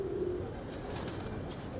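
A low, soft coo from a Salara pigeon at least seven years old rumbles briefly in a quiet setting, with no voices.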